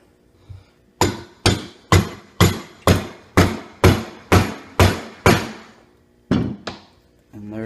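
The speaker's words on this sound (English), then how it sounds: "you can either use the vise to squeeze it in, or you can use your rubber mallet" A rubber mallet taps suspension bushings into place with a steady run of about ten evenly spaced, solid thuds, followed by two more blows after a short pause, close and loud.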